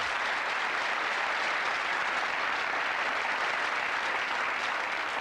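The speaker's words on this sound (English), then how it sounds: "Give him a round of applause for that, though, ladies and gentlemen." Steady, dense applause from a TV game show studio audience, a continuous wash of many hands clapping at even loudness throughout, with no speech.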